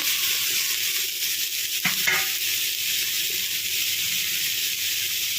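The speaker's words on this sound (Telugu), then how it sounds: "తోటకూర ఫస్ట్ ఐలో పెట్టుకోవాలి ఐలో పెట్టుకొని ఇలా వేయించుకోవాలి" Amaranth leaves fry on high heat in a pan, a loud continuous sizzle and hiss with a brief scrape of stirring partway through, no voices.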